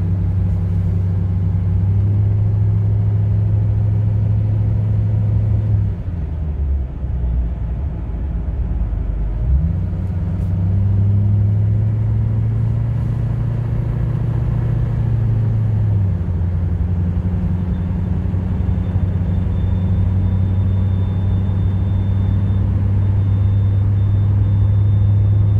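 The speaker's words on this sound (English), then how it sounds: "exhaust brake engaging. I can hear it." Idling 2011 Chevrolet Silverado 2500HD 4WD with a 6.6L Duramax diesel and about 200K miles, its exhaust brake engaging: a steady deep low rumble that dips and shifts pitch for a few seconds, then settles back into a constant drone, heard alone.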